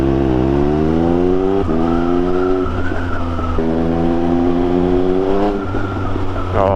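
Triumph Speed Triple 1200 RS motorcycle fitted with a Pro-Race GP-R3R exhaust, revving hard through repeated rising engine pulls with gear-change breaks, close and very loud, with no talk.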